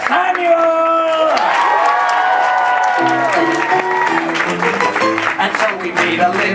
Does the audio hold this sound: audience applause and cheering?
yes